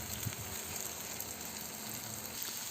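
Eggs frying and being stirred in a pan for egg rice give a steady, even sizzle throughout, with faint scraping of the stirring underneath and no voices.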